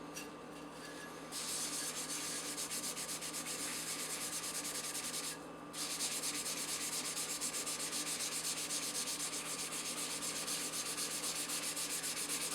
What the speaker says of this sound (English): the rougher the scouring pad is, the easier it is to clean your stones